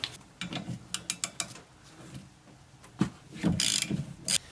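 A ratchet wrench clicks in quick bursts of short pawl ticks while loosening a 14 mm driver's side wiper arm nut on a Toyota with a 2GR-FE engine, close up, followed by some scraping handling noise.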